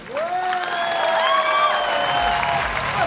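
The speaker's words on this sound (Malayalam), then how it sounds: "കയ്യടി." Audience applause fills a hall, a steady dense wash of clapping from a sizeable crowd with a loud tonal voice or music line riding above it throughout.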